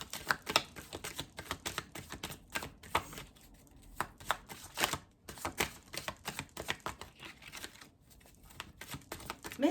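Tarot cards from a Hoodoo deck being shuffled and pulled, a steady run of close, soft papery flicks and slaps with brief pauses, no talking.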